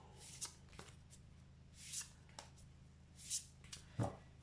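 Tarot cards are shuffled by hand in a quiet room, with soft riffling bursts and light card snaps coming in several separate moments, faint and close.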